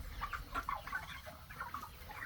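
Chickens clucking in a coop near a high-flow water supply line for bell waterers, several soft, fairly faint calls in short bursts with no talking.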